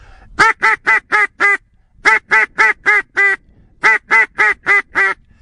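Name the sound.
mallard duck call quacks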